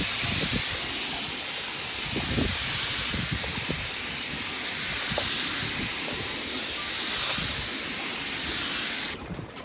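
A spray gun lays down a light coat of Awlcraft 2000 paint in a steady, close hiss that holds for nearly ten seconds, with faint handling clicks underneath before it cuts off abruptly at the end.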